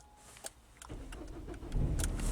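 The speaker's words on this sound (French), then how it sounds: "Bon, on essaye de démarrer la voiture" A car being started on the way to magnet fishing along a canal: a few small clicks and rattles, then a low engine rumble that rises and fills the end of the clip, heard fairly close with no talk.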